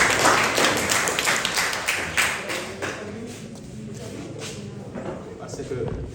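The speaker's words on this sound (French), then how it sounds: "les candidats du CREM, vous applaudissez solennellement aux encadreurs" Exam candidates at a closing ceremony applaud their supervisors: a burst of dense clapping from a group that fades after a few seconds, with talk continuing over the tail.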